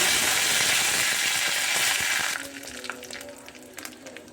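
Fenugreek seeds, chilies and curry leaves fry in hot oil for Kerala pulissery, a loud crackling sizzle that abruptly softens into lighter scattered pops and spatters, close up with no talk.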